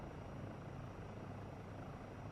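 A European helicopter in the Helicopters VR video game gives a steady, continuous rotor and engine drone, loud and unchanging throughout, with no voices.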